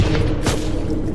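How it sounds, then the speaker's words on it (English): A flashbang grenade goes off as one loud, close boom. A heavy rumbling wash follows and fills the short moment with no clear tail, and no one speaks. "Flashbang in!"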